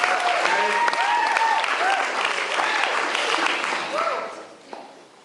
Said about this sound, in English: another giant round of applause for you, Faye, for being very brave today and going